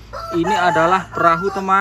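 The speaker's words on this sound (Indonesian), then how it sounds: "Nah itu suara ayam" A toy chicken crows in two loud, close, tonal cock-a-doodle-doo calls with a short pause between them, while a voice speaks over it.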